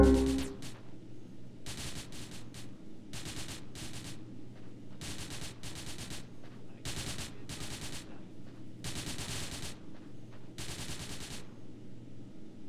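Gunfire in GTA San Andreas: about a dozen evenly spaced automatic bursts rattle out one after another over a low steady hum, with no voices.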